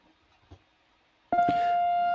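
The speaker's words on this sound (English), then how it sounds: "Sorry about the alarm." An alarm cuts in abruptly after a near-silent stretch and then holds a loud, steady electronic tone that does not stop, with a faint knock just before it.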